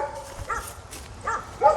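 Several dogs bark in short bursts some distance away near a graveyard, a few yips scattered over a couple of seconds.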